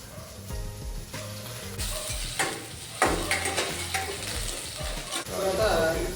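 Finely chopped garlic sizzles and fries in a pan for Mongolian chicken, with steady stirring scrapes over a continuous hiss; tonal background music plays throughout.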